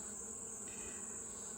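Honey bees buzzing around a hive in a wooded spot, a steady, faint insect drone that holds unbroken throughout.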